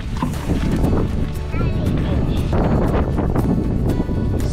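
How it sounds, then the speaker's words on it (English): Strong wind roars steadily across the microphone in loud, rumbling gusts at a state park, with a faint voice briefly audible beneath the buffeting. "So windy."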